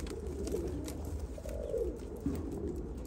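Pigeons at a Turkish pigeon farm coo softly, a few low throaty calls over a steady background murmur, fairly faint and unhurried.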